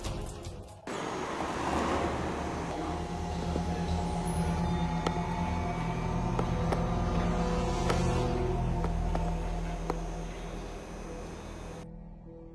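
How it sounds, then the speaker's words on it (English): A police vehicle rolls past, heard as a broad rumbling swell of engine and road noise that builds, holds for several seconds and fades away, with a few faint clanks and no speech. "A police vehicle passes"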